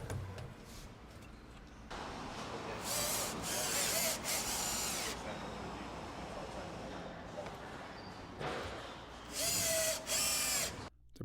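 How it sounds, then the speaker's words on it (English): A power driver screws a new AquaGo propane water heater into its mounting position in an RV. Several short whirring bursts rise over a steady background hum, close and moderately loud. "The new AquaGo simply slides into the previous heater's position and is screwed in place."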